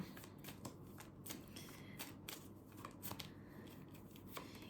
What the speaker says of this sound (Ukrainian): я виймаю з кожної колоди по три карти